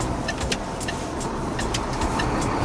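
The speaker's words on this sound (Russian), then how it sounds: "С территории автобусного парка выруливаем" A truck pulls out of a bus depot in Chernihiv early in the morning, its engine a steady low rumble under rhythmic faint clicks, with no voices.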